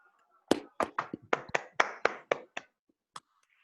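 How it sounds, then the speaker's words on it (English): About a dozen separate, sharp claps ring out one by one in a quiet room as a speaker is welcomed at a talk, uneven in rhythm and fairly close, with no crowd swell. "Let's welcome him with the hearty clap."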